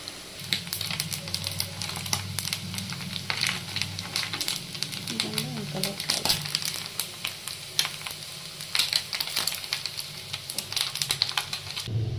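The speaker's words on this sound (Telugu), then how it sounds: "నిల్వ ఉండడానికి మనకి రొయ్యలు బాగుండాలి అంటే రెడ్ కలర్ వచ్చే వరకు వేయించుకోవాలి." Prawns fry in hot oil in a pan for prawn pickle, giving a steady, dense sizzle with crackling pops throughout, and a voice speaks over it.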